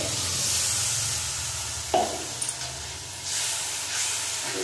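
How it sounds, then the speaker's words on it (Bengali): Spice paste of cumin and coriander powder with a little water, being stir-fried in oil for a Bengali rohu fish kalia, sizzles and hisses steadily with a few scraping stir strokes. "ভালো করে বেশ কিছুক্ষণ মশলাটা কষাবো।"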